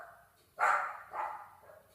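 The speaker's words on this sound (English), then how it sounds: "sorry for the barks." A dog barks indoors nearby, giving one loud bark and then a softer second one, followed by a faint trailing whine, with no talking.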